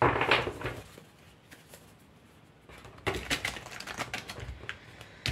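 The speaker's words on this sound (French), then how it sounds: "je vais quand même tirer des cartes de tarot" Art Nouveau tarot cards being shuffled and drawn by hand produce close, irregular clusters of crisp flicks and taps, with a quieter stretch in the middle before denser card slaps resume.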